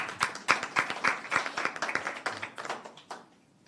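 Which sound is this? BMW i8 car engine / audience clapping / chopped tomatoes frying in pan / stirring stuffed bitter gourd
audience clapping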